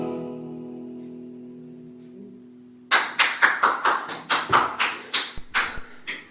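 A sustained tone fades out, then a dozen or so sharp hand claps ring out in an uneven, sparse rhythm, close and fairly loud, as pity claps.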